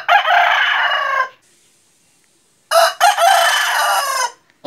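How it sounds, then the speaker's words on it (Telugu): A rooster crows loudly and close by, one long call followed after a pause by a second, separate crow. "ఒకసారి మా కోడిపుంజు చూడండి ఎలా రుప్పుతుందో."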